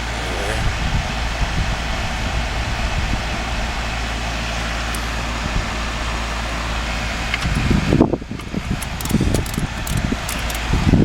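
An outdoor air conditioning condenser unit runs with a steady, loud mechanical hum and fan whir, joined near the end by scattered rustling and handling noises close by.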